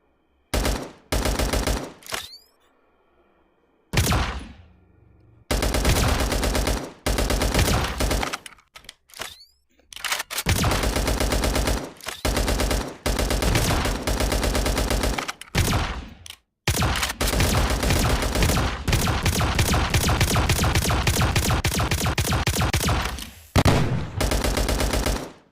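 Rapid bursts of gunfire in a zombie survival video game, with loud, dense automatic fire in long runs, separated by short pauses and a few isolated shots.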